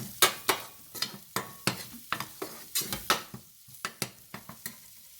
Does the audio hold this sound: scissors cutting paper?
no